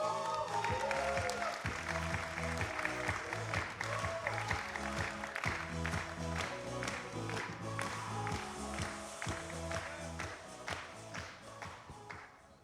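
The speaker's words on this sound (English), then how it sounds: "So let's big applause for Sincronoz" Conference audience applause for a music marketplace startup at a tech event, moderately faint scattered clapping layered over loud rhythmic music that dominates throughout.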